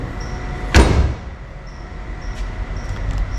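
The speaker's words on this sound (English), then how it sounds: "So I'll shut the door here" A door on a Third Gen F-body with a pre-notched roll cage slams once, a single close, sharp thud followed by quiet steady background noise and faint ticks.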